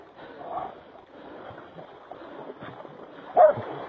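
A bulldog barks and whimpers while catching a hog in water, short yelps rising over a low murmur of splashing and people talking, with one sharper, louder cry near the end.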